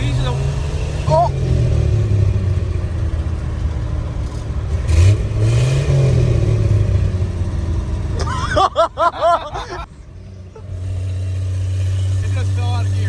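A 1954 Chevrolet engine, running again after two decades of sitting, revs and drones unevenly, then drops out as the car falls out of gear and settles to a steady idle, with people talking and exclaiming over it.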